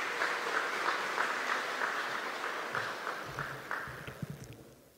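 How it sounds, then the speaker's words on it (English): An audience at a lecture series at a community college applauds a retired teacher, a steady wash of clapping from many hands in a room that slowly fades out over about five seconds. "Give a round of applause for Mr."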